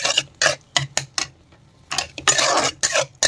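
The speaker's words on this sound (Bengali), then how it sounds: "তো দেখো ভালো করে আমি নাড়িয়ে নিচ্ছি।" A spoon scraping and clinking against a pan while rice, dal and vegetables are stirred for baby food, a series of sharp irregular metallic strokes with short pauses between them, close and fairly loud, no voices.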